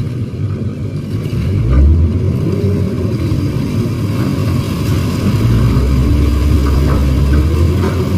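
A truck drives through the Bocimi toll road section 2 construction site near the Parungkuda exit, its engine a steady low rumble that swells slightly as it passes, with no talking.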